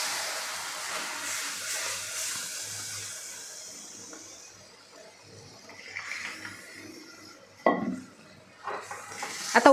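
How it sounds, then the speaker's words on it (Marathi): Milk is stirred into a sabudana barfi mixture in a pan, a steady soft scraping with faint sizzle that fades, then a few louder spoon-and-pan clatters near the end. "अगदी थोडं घालायचं आणि मिक्स करून घ्यायचं आहे।"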